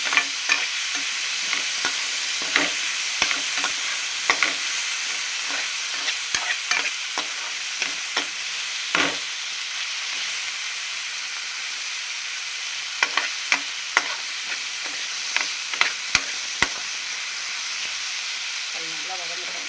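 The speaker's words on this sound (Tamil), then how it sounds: "தக்காளி நல்லா வதக்கணும்." Tomatoes sauté in an oily pan for a cauliflower chicken gravy, with a steady close sizzle and hiss under repeated scraping and clinking strokes of a spoon stirring them.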